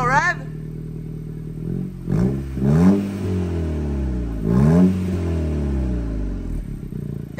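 A 2022 Honda Civic Si fitted with a 27WON exhaust revs up loudly and close: a short burst, then a few rising and falling throttle blips over a deep idle, with people talking over it.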